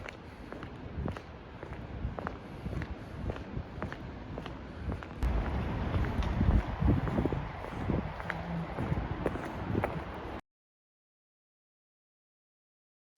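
Strong outdoor wind after a storm buffets the microphone in a steady broadband rush, surging louder around the middle with scattered crunching footstep-like thuds, then cutting off abruptly near the end.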